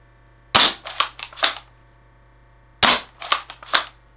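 An M97 gel blaster fires single shots with a spring spacer fitted, the gels splatting on impact; several sharp snapping pops arrive in two close bursts of about four each, loud and near, with a silent gap between.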